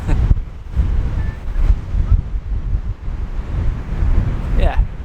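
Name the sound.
wind on the coast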